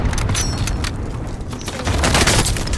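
Gunfire in a video game shooter: dense, continuous rattling bursts of shots and booms fill the clip at steady loudness, close and loud, with no clear talk over it.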